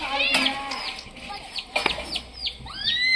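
Chickens clucking and squawking close by, a run of short bursts with rising and falling calls and a louder rooster-like cry near the end, moderately loud with no talk.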